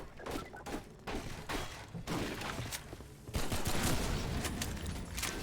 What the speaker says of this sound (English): Weapons do have better sound, thanks to MMod.